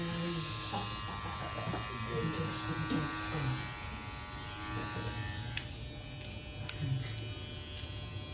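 Stylecraft Saber hair clipper switched on and running, a steady electric buzz that continues throughout, fairly faint and close, with someone talking over it.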